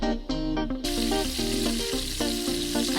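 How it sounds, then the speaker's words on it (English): Scotch eggs frying in hot oil, a steady close crackling sizzle with dense bubbling throughout, no voices. "fry into oil"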